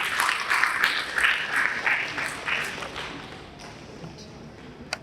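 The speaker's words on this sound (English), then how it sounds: "Please join me to congratulate him with the fabulous hand clap." Steady applause from the audience at a national ICT symposium for persons with disabilities, a dense wash of many hands clapping that gradually thins out, ending with one louder clap.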